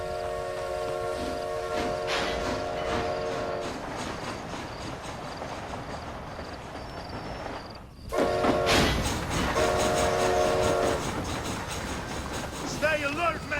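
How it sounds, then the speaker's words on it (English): A steam train rolls along steadily in the video game Red Dead Redemption Undead Nightmare, with rumbling wheels, clacking, and sustained horn or whistle tones; voices speak over it. "Is this train headed for Mexico?"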